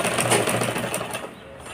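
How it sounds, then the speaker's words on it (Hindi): Sewing machine stitching along a blouse neckline, a steady rapid mechanical whir of needle strokes running close and continuously. "इस तरह से पूरी इस पे सिलाई लगा लेंगे"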